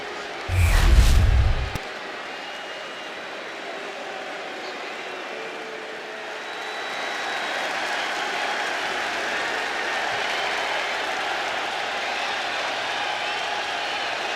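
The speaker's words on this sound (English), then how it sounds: "The crowd is singing for Seth freaking" An arena crowd chants and cheers in the wrestling game WWE 2K25, a sustained roar that swells and carries on after a brief loud burst at the start.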